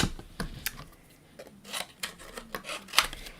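Scissors snip through paper and mixed-media ephemera in a series of short, crisp cuts at irregular intervals, close up and fairly quiet, with no voices.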